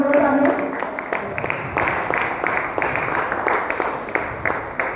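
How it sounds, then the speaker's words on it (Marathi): An audience at a Mumbai Marathi Patrakar Sangh stage event claps steadily as the curtain opens, a dense patter of applause that runs through the whole moment, with a voice briefly audible at the start. "मला सगळ्यांना सांगितलं जोरदार टाळ्या वाजवून पहिल्यांदा हा पडदा उघडत आहे"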